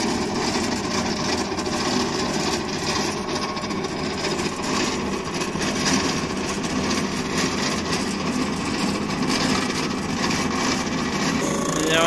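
A deck slab trimming machine runs on the Padma Bridge viaduct, producing a continuous, loud engine drone with a gritty grinding texture that stays steady throughout.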